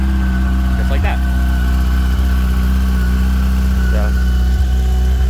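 A cold 2005 Yamaha FJR1300 motorcycle engine idles loudly and steadily up close, a constant mechanical hum running throughout while someone talks over it.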